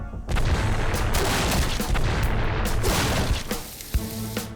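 Repeated heavy booms and crackling blasts of cannon fire from a ship in a cartoon, loud and dense throughout, with sharp bursts near the end.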